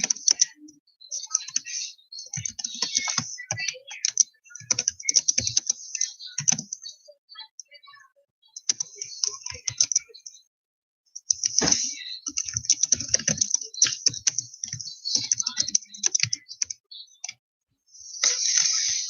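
Someone types on a computer keyboard at a desk in close, clicky bursts of keystrokes, with short pauses between runs and a few soft background sounds.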